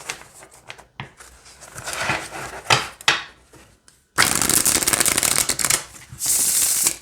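Herbal Tarot cards are shuffled by hand in several bursts of crisp riffling and flapping, with short pauses between and a long, loud riffle near the end.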